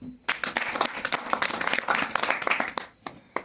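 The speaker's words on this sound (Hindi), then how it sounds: "आप सबके साथ मिलकर एक बार मेहराज भाई के लिए ताली हो" An audience claps for Mehraj Bhai in a short, uneven burst of individual hand claps, close and fairly loud, thinning out toward the end with a few stray claps.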